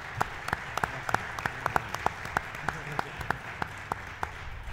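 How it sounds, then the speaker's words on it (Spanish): An audience at a book presentation forum claps, sparse and uneven with distinct individual claps in an irregular rhythm, fairly close and moderate in level. "Les pedimos un aplauso fuerte"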